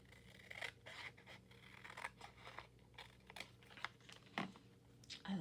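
Scissors snip through paper to trim a collage piece, a run of quiet, irregular crisp cuts and rustles close by, faint against a low background hum.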